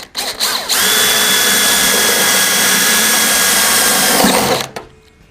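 A spot weld drill cuts out a spot weld on a Classic Mini body panel, a loud steady high-pitched whine running for about four seconds after a brief start-up burst, then spinning down.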